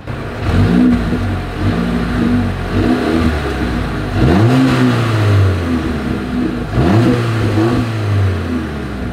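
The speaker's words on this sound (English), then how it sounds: "As always, here is that exhaust clip." A GLB's car exhaust revs up three times, each surge rising sharply and falling back to a deep idle rumble.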